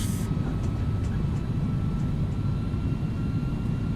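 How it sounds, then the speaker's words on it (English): Airbus A300 in X-Plane 11 with thrust reversers deployed on landing: a loud, dense, continuous low engine roar holding steady with no talk. "Decelerating, reversers out."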